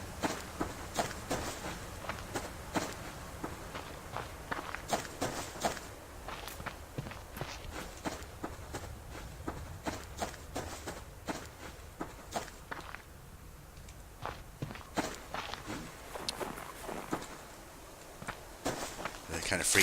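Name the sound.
footsteps in snow, from the video game Subsistence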